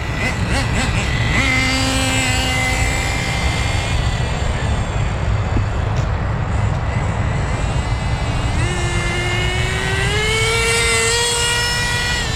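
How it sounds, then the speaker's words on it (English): An Associated RC10GT gas RC truck with a .15 nitro engine running on old 20% fuel, a steady high buzzing whine that rises and falls in pitch as it revs, continuous and fairly close. "This .15 associated engine is a miracle."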